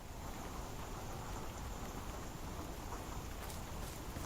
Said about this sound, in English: It is raining, but I'm not visually seeing anything.